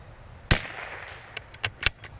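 .22LR rimfire rifle fires one sharp, loud crack outdoors, followed by a faint ring and several small clicks and knocks as the round strikes a steel target.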